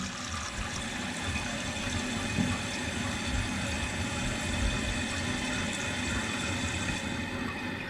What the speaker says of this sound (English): Water's filling.